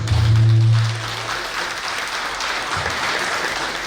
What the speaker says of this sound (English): With a round of applause, thank you